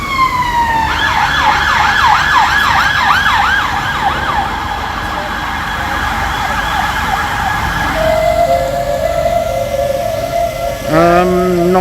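A London police car siren near Trafalgar Square wails in fast repeating up-and-down sweeps, then shifts to a slower steady tone before a short burst of yelps. It is loud and close over street noise.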